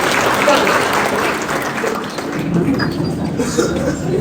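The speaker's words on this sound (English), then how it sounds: "Clap for yourself." A seminar audience claps for themselves, giving a dense, steady round of applause that stays loud throughout, with some voices mixed in under the clapping.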